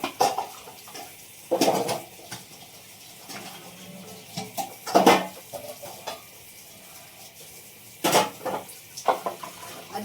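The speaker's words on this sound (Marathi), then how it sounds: "आधी मी भांडी करत राहतो" Dishes being washed in a home kitchen: intermittent clatters and clinks of pots and utensils, with brief louder knocks scattered among quieter scraping, fairly close and without talk.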